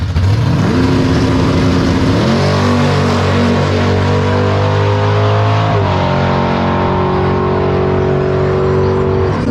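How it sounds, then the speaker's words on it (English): A big-tire fourth-generation Chevrolet Camaro with a 427 cubic inch engine roars close by down a drag strip, climbing in pitch through sharp gear shifts as it accelerates hard, loud and continuous throughout. "let's see what the 427 Camaro's got in a second pass here"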